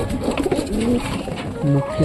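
Domestic pigeons, including a local breed nesting in a loft, give soft, repeated throaty coos, close and clear, with short pauses between phrases.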